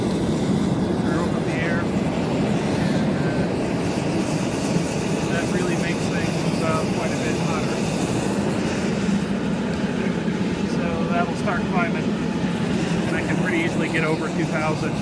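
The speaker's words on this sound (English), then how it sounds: "I can crank it up quite a bit hotter than that if I add a little bit more gas and really run the air wide open" A forced-air propane gas forge, built from a propane tank lined with Kaowool, is turned up with the gas at about 4 pounds and the air wide open. Its burner gives a loud, steady roar for the whole stretch, with faint voice traces underneath.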